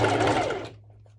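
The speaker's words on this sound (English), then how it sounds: "So here we're going to do a straight stitch" A sewing machine running a straight stitch while sewing a cowl-neck top: a brief, loud, fast mechanical whirr that stops and fades out within about a second.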